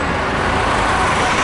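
Steady, loud car and bus traffic noise on a New York City street in Manhattan, heard from a bicycle while riding, a continuous roadway roar with no breaks.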